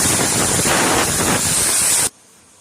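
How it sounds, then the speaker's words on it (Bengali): Drained chicken pieces tipped into a hot pan for a chicken curry, giving a loud, steady broadband sizzle that runs for about two seconds and then cuts off abruptly to near silence. "চিকেনের জলটা ঝরে গেছে, চিকেনটা ঢেলে দিচ্ছি।"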